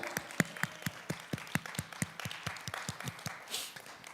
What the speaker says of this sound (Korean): 우리의 샘되신 하나님께 영광 박수 드립시다